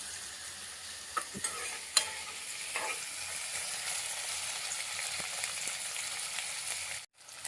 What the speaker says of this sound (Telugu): ఎక్కువ రెడ్ అవ్వద్దు, నార్మల్ గా వేయించాలి